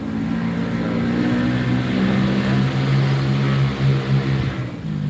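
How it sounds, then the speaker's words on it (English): A noisy motorbike passes along a city street in Chiang Mai, Thailand, its engine droning loud and steady close by before fading out near the end, with general street noise around it. "Noisy motorbike."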